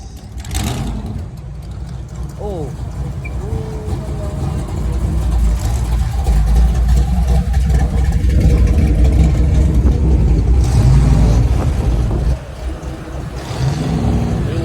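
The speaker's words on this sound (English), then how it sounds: "What a nice exhaust." Classic American car cruising on the Ocean City boardwalk, its exhaust rumbling and swelling in a loud low drone that builds then eases as it passes, with crowd noise and a brief exclamation from a nearby person.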